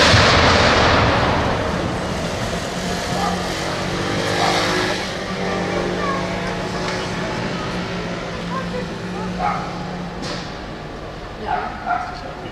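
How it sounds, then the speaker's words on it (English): A car is blown up during the Paris filming of Inception. A loud, close blast opens the sequence and decays into a low rumble, followed by distant background noise and a few faint sharp sounds. "this car that you can see on the picture will be blown up in a few seconds"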